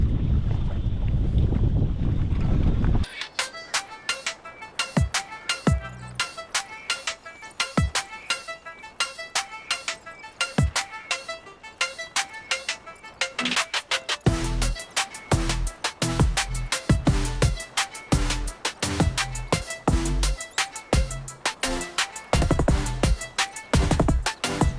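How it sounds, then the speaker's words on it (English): Wind buffets a fishing boat out trolling on open water, a loud rushing gust at first, then sustained blustery noise punctuated by frequent knocks and thumps aboard, with no talk. "the wind's coming this way"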